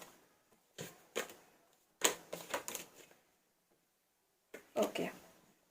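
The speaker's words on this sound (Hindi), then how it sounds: "लास्ट शफल, देन हम कार्ड लेते हैं।" A deck of tarot cards being shuffled up close, with short riffling bursts separated by quiet pauses.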